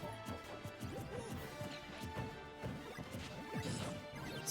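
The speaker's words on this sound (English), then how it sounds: "That down smash did not work that time, despite it being a true combo." Smash attacks connecting in a Super Smash Bros. Ultimate singles match at a tournament, a busy run of sharp hits and crashes over game music, with commentary voices talking underneath.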